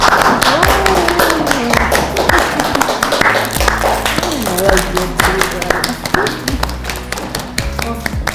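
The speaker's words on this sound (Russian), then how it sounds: "мы можем встречать Ильзару бурными аплодисментами" Audience applause in a television studio at a fashion show, heard as a mix of close, individual claps and taps under prominent music with a singing voice and beats.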